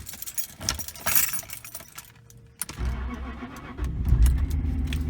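Car keys jangle in a loud metallic rattle beside a 2000s Jaguar XJ8 with a no-start, won't-crank fault, followed by a quieter pause and then a low engine rumble that swells near the end.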